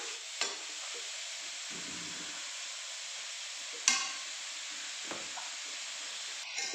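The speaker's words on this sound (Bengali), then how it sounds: "ঘি দিয়ে ভালো করে ভেজে নিলাম" Grated carrot for halwa fries in ghee with a constant soft sizzle, punctuated by a few clicks and scrapes as it is stirred in the pan.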